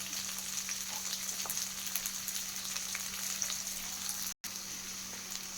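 Onion and capsicum fry in a pan for chilli chicken with chowmein, giving a constant even sizzle with a low hum underneath and a brief dropout near the end.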